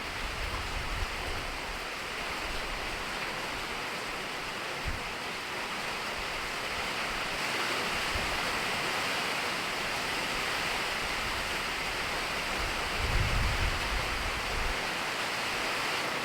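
Heavy rain pours down steadily during Hurricane Debby, a dense unbroken hiss close by that lasts throughout, with a few low thumps and gusts, and no talking.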